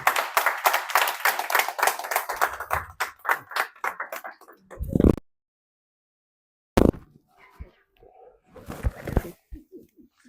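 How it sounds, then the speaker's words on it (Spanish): A church congregation at a Sunday service applauding, a burst of clapping from many hands that fades, breaks off into silence, then returns as scattered sharp claps. "Dale un aplauso fuerte."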